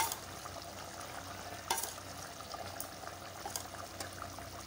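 Chicken curry with yogurt simmers and sizzles in a pan as the water cooks off, a steady soft bubbling hiss with occasional stirring scrapes and clicks, no talking.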